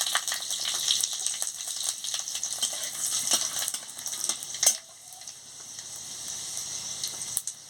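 Panch phoron spices, with bay leaf and dried red chilies, crackling in hot oil: a dense, bright spattering sizzle close by that drops suddenly about halfway and continues more quietly.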